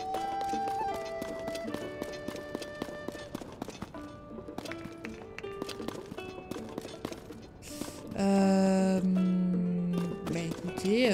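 Horse hooves clip-clopping in the Zelda: Tears of the Kingdom video game, a steady run of light hoof beats beneath game music and tonal effects, with a louder musical swell near the end.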